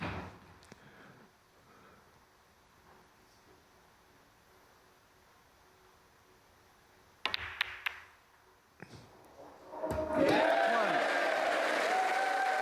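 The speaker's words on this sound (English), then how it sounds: "Biggest cheer of the day." At a snooker match, a crowd breaks into loud applause and cheering after a few sharp knocks, the clapping swelling and holding steady to the end over a quiet room hush.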